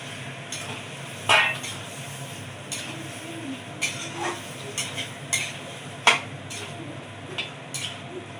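Meat is stirred into fried masala in a pot for a spiced meat curry, a low sizzle under repeated spoon scrapes and clinks against the pan, several sharper knocks spaced unevenly, with no talk.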